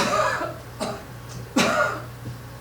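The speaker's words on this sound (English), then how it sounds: "you hear this cough?" Two short coughs ring out a moment apart over a low steady hum, dry and fairly close.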